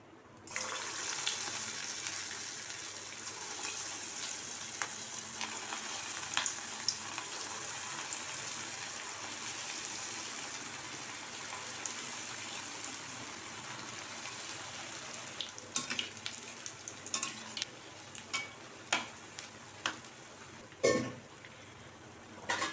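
Idli batter bondas deep frying in hot oil give a steady, close sizzling hiss with scattered crackles and pops that grow busier toward the end, with no talking.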